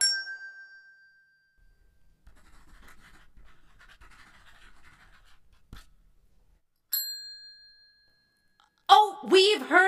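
A quiz-show buzzer bell rung by a contestant team gives a bright ding at the start and another a few seconds later, separated by near silence, with a voice speaking right after.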